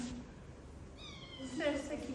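Cats meow in a rescue setting, two short mewing calls heard fairly faint against background noise, with people talking nearby.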